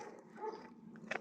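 A dog gives a brief, faint bark or yelp, quiet and somewhat distant, with a short sharper burst at the very end.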